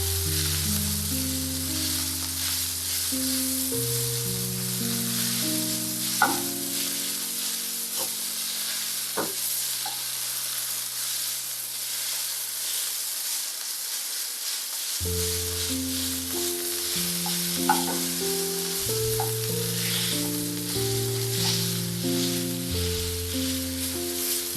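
Coriander stems (kothmeer) wilting in a hot pan for a Karwar village chicken curry masala, a soft steady sizzle beneath a looping melodic music track, with a couple of sharp utensil clicks and no voices.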